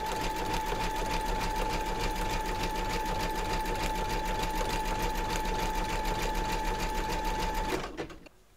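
A large vintage sewing machine zigzag-stitching an edge runs steadily with a fast, even mechanical whir and hum, then stops abruptly near the end.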